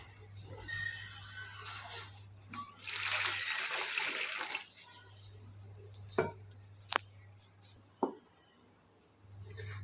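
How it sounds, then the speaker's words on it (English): Water is poured from a container onto a child's hand during a classroom hand-washing demonstration, a soft splashing trickle over the first few seconds, followed by a few sharp clinks and quiet background hum. "Sanvi, put some water on it."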